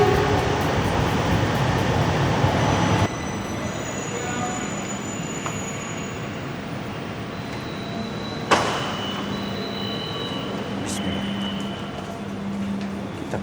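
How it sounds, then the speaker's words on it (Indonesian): An LRT train pulls into a station with a loud, steady rolling rumble and faint high wheel squeals, followed by a sharp clank, all heard from the platform. "keretanya udah mulai mau datang, jadi kita ngikutin orang aja nih"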